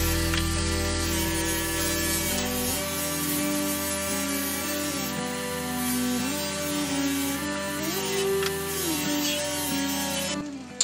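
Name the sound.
bench grinder with flexible polishing disc working metal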